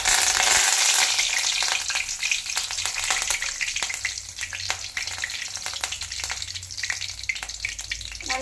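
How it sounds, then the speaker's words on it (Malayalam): Curry leaves hit hot oil for an egg curry, giving a loud, bright sizzle and crackle that fades into a steady fry with occasional stirring ticks. "ഇതിനകത്ത് നമുക്ക് ഫസ്റ്റ് കരിയാപ്പിലയുടെ കറി ലീഫിൻ്റെ ഫ്ലേവർ നമുക്ക് കൊടുക്കാം ഫസ്റ്റ്"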